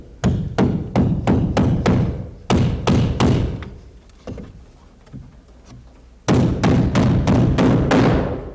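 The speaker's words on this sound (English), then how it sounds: "Then position it and nail it in." Hammer driving a nail into the mortar joint of a brick wall, sharp heavy blows struck in steady runs of several hits, a short quieter pause, then another fast series, close and loud.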